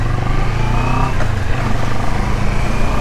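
A CF Moto big bike engine runs steadily up close, a continuous low rumble with a faint mechanical clatter layered over it throughout.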